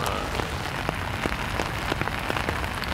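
Rain falling in a park, a steady patter of drops on leaves and surfaces with distinct close taps scattered through the continuous wash.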